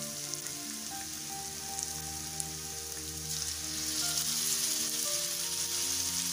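Onions sauté in a hot pan until golden, giving a steady, close crackling sizzle that grows a little louder toward the end.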